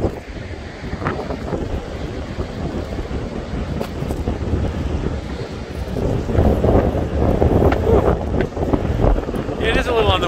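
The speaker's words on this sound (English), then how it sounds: "It is a little on the windy side." Strong winter-storm wind buffets the microphone nonstop over a low roar of Oregon surf at the beach, growing a little louder toward the end.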